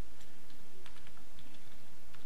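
Keys tapped on a computer keyboard while entering code, scattered soft clicks in an irregular rhythm, quiet and close with no voices.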